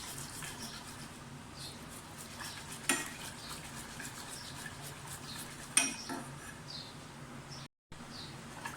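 Milk being stirred continuously with a spatula in a pot as it heats toward a boil for chocolate syrup, a soft steady scraping and swishing with a couple of sharper clinks against the pot, no voices.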